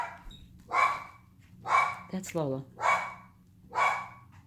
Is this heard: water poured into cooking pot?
no